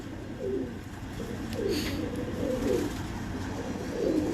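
Soft pigeon coos repeat every second or so, low and throaty, in a quiet room with a faint background hum.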